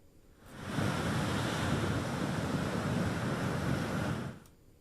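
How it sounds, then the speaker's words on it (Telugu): Strong wind gusting through a coastal village near Gudur in Nellore district during incessant heavy rain, a loud, steady broadband roar that swells in around half a second, holds for about four seconds, then drops away. "తీర ప్రాంత గ్రామాల్లో గాలులు వేగంగా వీస్తున్నాయి"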